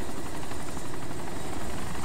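Helicopter in the survival game DayZ Epoch on the Chernarus map, a loud, close, continuous rotor drone with rapid blade chop, steady and unbroken throughout.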